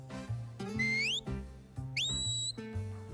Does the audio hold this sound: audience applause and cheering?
no